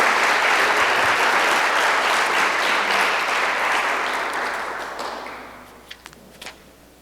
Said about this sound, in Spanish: Les damos un caluroso aplauso de bienvenida